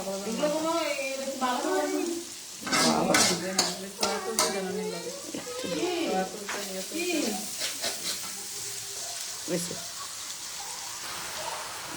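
Vegetable noodles stir-fried with sauces, a steady sizzle with scraping and clattering of a utensil in the pan, close and fairly loud, with harmonic voice-like sounds in the first few seconds.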